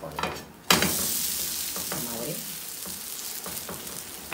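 Food sizzles steadily in oil in a pan while a spatula stirs and turns it, with a hard scrape at the start and then a continuous close frying hiss with occasional utensil clicks.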